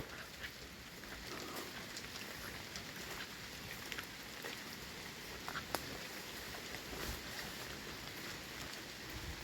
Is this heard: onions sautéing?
no